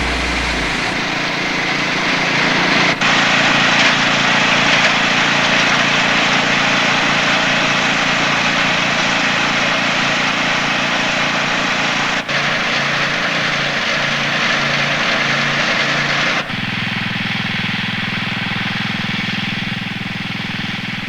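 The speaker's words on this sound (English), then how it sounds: "This small garden tractor is a 16 horsepower tractor from Sears." A 16 horsepower Sears garden tractor engine runs steadily and close, a loud, even small-engine drone that shifts pitch at a few points as the load or throttle changes, with no voices.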